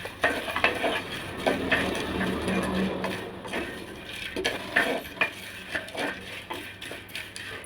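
Dried pirandai being dry-roasted in a pan, with continuous stirring scrapes, light crackling and occasional clinks of the spatula against the metal, steady and close with no voices.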